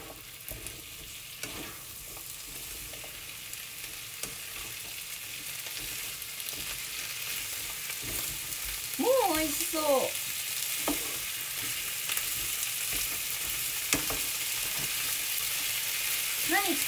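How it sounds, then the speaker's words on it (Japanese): Food stir-frying in a pan after a sprinkle of salt, a steady close sizzle with scraping stirs, and a few short squeaky chirps partway through. "塩振って美味しく炒めます。"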